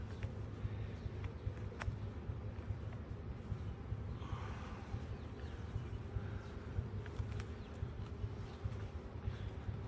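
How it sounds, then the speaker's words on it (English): Low, steady droning hum of many honeybees buzzing close by on a crowded hive frame, continuous and fairly faint, with occasional light clicks and no speech. "This next frame is whopping full of bees."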